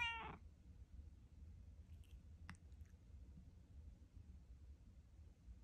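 A house cat lets out one short, faint meow at the start, followed by a few soft, tiny sounds over a low, quiet background hum.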